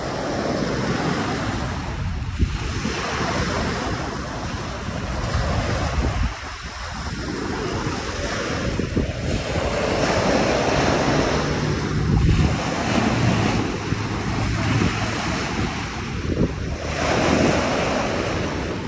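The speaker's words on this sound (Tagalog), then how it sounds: "masarap pakinggan ang hampas ng alon" Surf waves crash and wash steadily onto Dolomite Beach along Manila Bay, a continuous close roar of breaking water mixed with gusty wind buffeting the microphone, with no voices.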